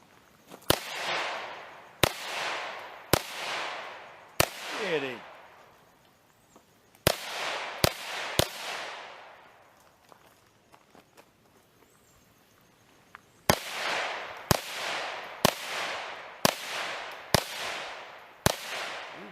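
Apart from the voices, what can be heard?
Ruger Charger pistol gunshots at shooting range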